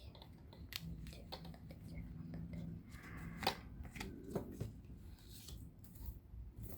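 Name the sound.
tarot cards being drawn and shuffled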